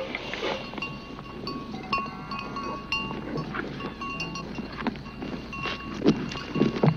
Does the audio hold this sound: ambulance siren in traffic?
no